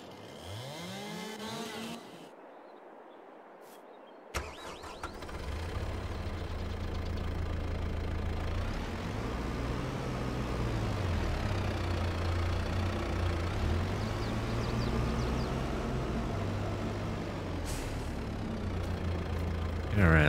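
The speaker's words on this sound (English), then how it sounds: "let's pull the tractor up here so I don't have to carry it down there so far" Low, steady idle of a tractor engine in Farming Simulator 22, humming continuously for most of the stretch after a brief quiet start, with a person talking at the beginning.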